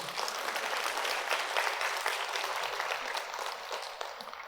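A lecture audience at Seongnam City Hall breaks into dense, continuous clapping that holds steady throughout and thins slightly toward the end.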